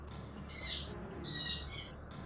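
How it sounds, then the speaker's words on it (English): Bird calls in the game Final Fantasy XIV: two or three bright, squawking cries sounding moderately close over a quiet hum, with no talking. "Man, Becca, your bird's loud today"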